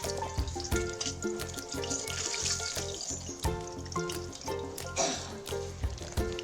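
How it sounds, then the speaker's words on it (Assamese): Eggs frying in hot oil in a kadai, seasoned with salt, giving a steady close sizzle with repeated rhythmic clinks and scrapes of a utensil against the pan. "কণীকেইটা ফ্ৰাই কৰি ল'ম ইয়াতে।"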